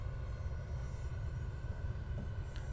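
A Fokker F100 airliner's engines in the X-Plane flight simulator give a steady, even drone with a heavy low rumble, unbroken and alone.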